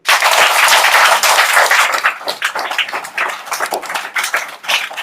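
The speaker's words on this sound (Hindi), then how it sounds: "ताली बजा दो" A group of children clap together in a classroom during an alphabet lesson, a dense burst of loud applause that thins into scattered, uneven claps and fades toward the end.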